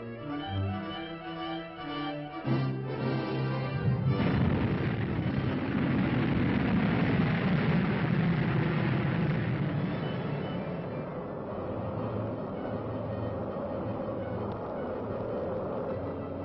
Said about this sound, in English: There, at the press of a button, the corporal is fired.